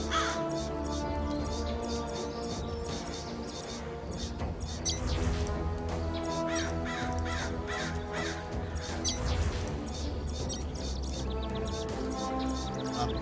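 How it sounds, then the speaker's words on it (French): Crows caw repeatedly in the video game Amaranthine Voyage, their calls mixed into a dense, steady layer of game music and ambience, with a person talking at times. "Oui, les corbeaux, taisez-vous!"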